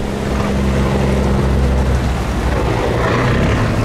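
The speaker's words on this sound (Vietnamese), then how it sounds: "Xà lan nổi phía sau nó phải lùi hết ga nha các bạn." Heavy diesel engine of a floating barge on a river, reversing at full throttle, a loud steady low rumble with churning water that holds throughout without talk.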